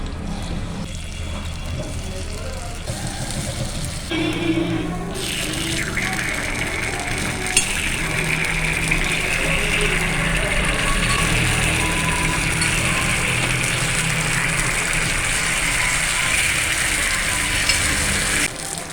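Ragi paniyaram batter dropped into hot oil in a paniyaram pan, the sizzle rising sharply after a few seconds into a loud steady crackle with occasional clicks of the pan, no speech.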